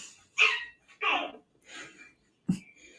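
A puppy gives a few short, high barks and yelps with whimpering between them, close and fairly loud, spaced out over a few seconds with pauses.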